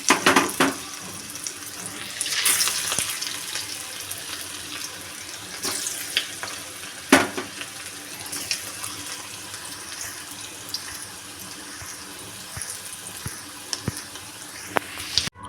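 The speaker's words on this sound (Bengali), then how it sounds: "এখন এই যে আমি বাঁধাকপির যে মানে বড়ার আকারে করে নিয়েছিলাম সেগুলো আমি একটু হালকা করে ভেজে নেব" Cabbage and gram-flour fritters fry in oil in a wok with a steady, close sizzling hiss, broken by occasional louder crackles and spatters.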